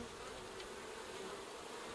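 Honeybees at an open beehive make a steady, dense buzzing drone that holds at an even level throughout, with no voices.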